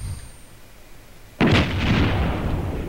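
Indirect fire training: a single loud, sharp artillery round goes off partway through, its blast decaying into a sustained rumbling roar after a quiet lead-in.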